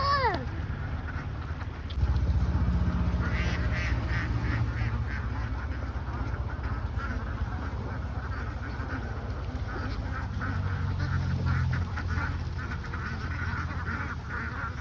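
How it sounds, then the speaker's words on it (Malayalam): A large flock of ducks seen beside the road during a family cycle ride in Kerala quacks and honks continuously in a dense, overlapping chorus, close and loud throughout, with faint voices underneath. "ഞാൻ എൻ്റെ ലൈഫിൽ ആദ്യമായിട്ട് ഇത്രയധികം താറാവുകളെ ഒരുമിച്ച് കാണുന്നത്"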